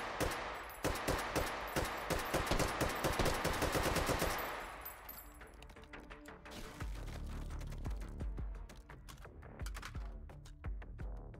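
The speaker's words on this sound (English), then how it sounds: "I just wasted all my AK ammo." An AK rifle fires rapid automatic bursts in the VR game Hot Dogs, Horseshoes and Hand Grenades. Sharp, dense shots run for about four seconds, then scattered shots and mechanical handling noises follow at lower volume.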